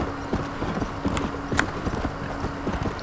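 Horse hooves gallop in the Red Dead Redemption video game with a rapid, steady clip-clop rhythm, close and clear, joined by a brief snort or whinny.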